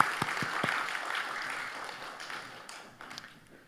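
Congregation applause in a Korean church during a Sunday afternoon worship service, a moderate, somewhat distant patter of many hands clapping that gradually thins and fades out.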